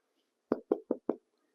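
A baked sourdough loaf is rapped four times in quick, evenly spaced succession, giving close, hollow knocks with no voices.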